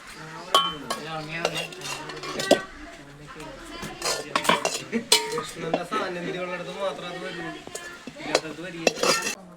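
Cooked clams and tapioca are moved from a cooking pot into another vessel, with metal spoon scrapes, clanks and clinks against the pots coming in uneven bursts while a person talks over them.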